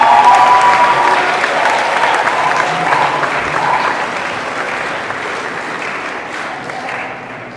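Audience at a technical and professional school graduation ceremony clapping for graduates, a dense, loud, sustained round of applause that slowly tapers off.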